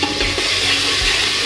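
Ginger, garlic and green chili paste frying in a pot of spices for Mumbai-style dal gosht, a dense, continuous sizzle with soft stirring scrapes and no talking.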